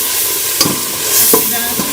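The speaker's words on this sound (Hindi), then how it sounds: "अब हम इसमें बिरयानी मसाला शामिल कर लेंगे और इसको हम 1 से 2 मिनट भून लेंगे" Peas frying with biryani masala in a pan for matar pulao, a steady sizzle broken by a few scraping stirs of the spoon, close and alone.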